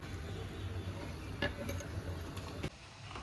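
Onion tempering sizzling in hot coconut oil for a Karwar-style Konkani fish curry, a faint steady hiss mixed with a few light clinks of a spoon against a pan, with no talking.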